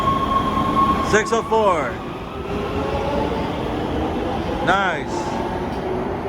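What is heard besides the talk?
Los Angeles Metro Red Line subway train departing station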